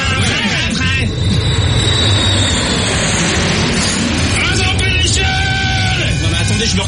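A cartoon airplane sound effect roars in loud and steady, a dense engine drone with whining tones, under animated voices talking.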